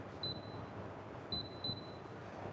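A Phottix Odin Z flash trigger gives a thin, high electronic beep, then a quick double beep a second later, small and clear against a quiet room hush.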